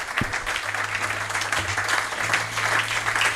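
A church congregation applauds steadily and loudly throughout, a dense wash of many hands clapping in a reverberant hall, with a low hum beneath.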